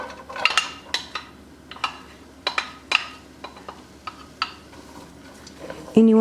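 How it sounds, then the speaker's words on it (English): Red bell pepper and shallot going into a frying pan, a scatter of close clinks and clatters of utensils against the pan, ending in a louder metallic clunk. "Now to this frying pan, that's where I'm going to add in my red bell pepper and the shallot."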